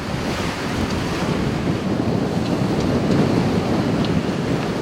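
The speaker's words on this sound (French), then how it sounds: "Très vite, vent de tempête, brouillard et froid sont au rendez-vous." Storm wind and heavy ocean surf at sea aboard a racing sailboat, a dense, continuous roar of gusting wind and crashing waves with steady loudness and no voices.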